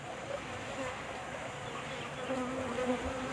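A packed bee colony hums steadily inside a wooden hive box, a dense close buzz holding even and loud throughout with no voices.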